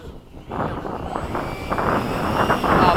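A Freewing 90mm EDF F-22 model jet flies in formation at an RC airfield, its ducted-fan whine steady and rising slightly as it passes, with people talking nearby throughout.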